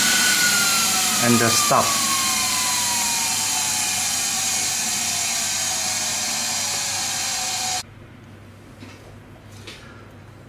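A Swiwin model jet turbine whines loudly and steadily, its pitch sliding slowly downward before it cuts out abruptly, leaving faint background noise and a brief spoken phrase.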